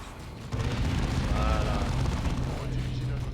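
Heavy cannon fire in the Dawn of War 2 strategy game: a loud, sustained rumbling blast bursts in after a short pause and rolls on steadily to the end, with a voice talking faintly underneath.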